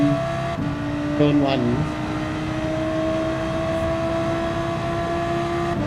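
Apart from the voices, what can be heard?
race car engine throttle in video game Gran Turismo 7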